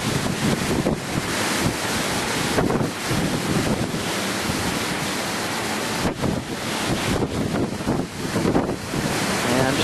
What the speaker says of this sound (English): Now the gusts of wind are getting so strong